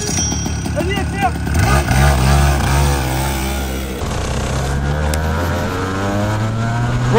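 An Alpha X30 two-stroke racing kart of about 30 horsepower and 130 kg accelerates on a circuit, its buzzing engine note climbing in pitch through several revving sweeps, loud and close throughout.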